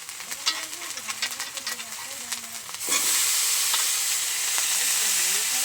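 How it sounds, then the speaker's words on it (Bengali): Scraping stirs of spice masala in a pan give way to a sudden loud, steady sizzle as chopped potato, tomato, kohlrabi and tender stalks are tipped in and fry close by. "এবারে আমি এখানে কেটে রাখা সবজিগুলো দিয়ে দেবো।"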